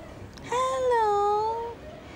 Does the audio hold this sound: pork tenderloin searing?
no